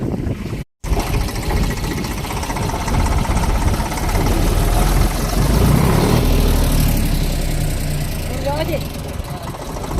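A tractor engine runs steadily and loudly close by, a continuous low rumble with wind buffeting the microphone throughout.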